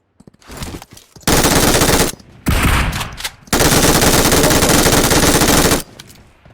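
Video game gunfire: loud bursts of rapid machine-gun fire, two long sustained volleys separated by shorter shots and brief pauses.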